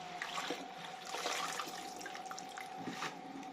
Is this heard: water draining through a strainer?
yes